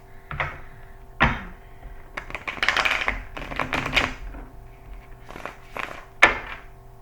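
Several decks of cards are shuffled by hand during a card reading, with irregular bursts of riffling and tapping spread across the stretch, close and fairly loud.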